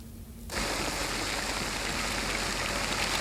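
Dense, constant hiss and patter of stones and pebbles raining down during the 1991 Mount Pinatubo eruption, starting abruptly and continuing loud and unbroken, with no voices.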